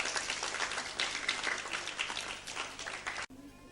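A congregation in the large Gilgal evangelical church applauds and cheers, dense continuous clapping that stops abruptly just before the end, leaving a faint room tone.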